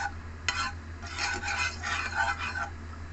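Ghee heats in a kadai with a soft, quiet sizzle and light stirring scrapes against the pan, alone with no talk.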